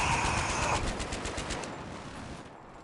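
A BTR vehicle's machine gun fires a rapid, loud, continuous burst in Battlefield 3, the rattle tapering off toward the end.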